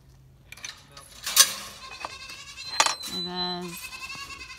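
Goats bleating from a stable on a snowy South Carolina farm, a few short calls with a clear held bleat near the end, mixed with light clinks and a brief spoken word.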